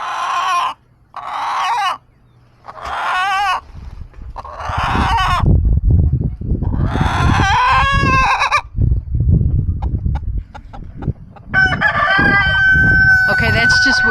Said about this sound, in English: There's this little hen right here making all that noise.